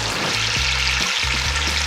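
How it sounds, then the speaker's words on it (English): Steady loud sizzling and crackling from roasted vegetables in a hot pot, with a few soft knocks of stirring underneath. "So now I'm gonna add the stock to the sizzling vegetables."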